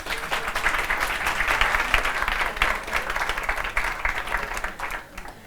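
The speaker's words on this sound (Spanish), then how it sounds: "¿Me dais un aplauso para que me pueda...?" An audience at a Spanish-language popular science talk applauds steadily for about five seconds, the clapping dense and moderately loud before fading out at the end.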